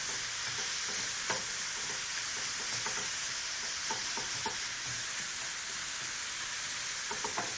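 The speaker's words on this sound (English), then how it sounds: "Your meat should actually start to brown very evenly." Ground beef sizzles and fries in a pan while being stirred, a steady bright hiss with occasional scraping stir strokes, close and continuous without any voices.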